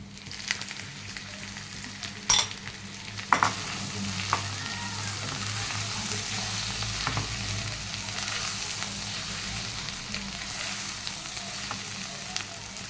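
Dried red chilli tempering sizzles steadily in hot oil before gongura chutney goes in, a continuous close fry with a few sharp crackles and clatters near the start.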